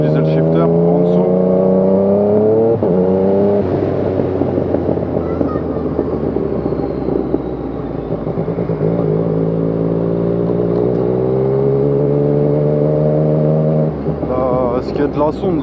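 A Yamaha MT-09 motorcycle fitted with an Arrow exhaust and a quickshifter revs loud and close, its engine note climbing and dropping in steady harmonic sweeps with a brief shift break near the start, running continuously.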